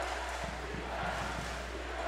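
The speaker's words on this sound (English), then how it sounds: "You can hear what the crowd wants." Crowd at an OUA Wilson Cup men's basketball championship game between Brock and Queen's, a sustained loud roar filling the arena with a steady low hum beneath it.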